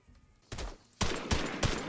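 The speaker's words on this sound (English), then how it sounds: "Who's shooting?" Video game gunfire erupts in sharp bursts: a short volley, a pause, then heavier sustained shots with a couple of louder cracks, close and loud.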